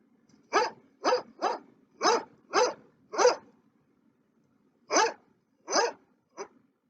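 A dog barks as a story sound effect: six sharp barks in a quick run, a pause, then two more barks and a short clipped yelp, close and clear with nothing else heard.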